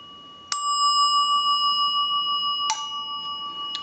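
Close-up ringing of a Northern Telecom telephone bell ringer with its bells out of adjustment: two bright metallic bursts with a shimmering, warbling sustain, loud and alone with no talking.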